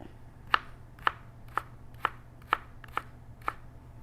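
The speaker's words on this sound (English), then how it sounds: "you're just going to cut little lines, cut little strips, just like that" A knife slicing an onion into thin strips on a cutting board, seven crisp, evenly spaced chops about half a second apart, close and clear over a faint background hum.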